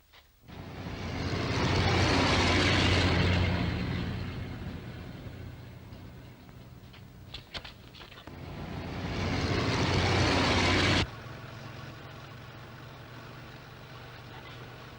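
A lorry engine rumbles loudly in a 1939 film scene, swelling and fading as it runs, briefly dropping away near the middle, then surging again before settling into a quieter idle-like drone.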